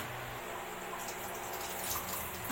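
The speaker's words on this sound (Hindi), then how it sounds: "अब हम इसमें थोड़ा सा पानी डाल देंगे।" Water pours steadily into a grinder jar of ground green chilies and chopped onion for a kadhi pakora recipe, producing a continuous close gushing splash with no talking.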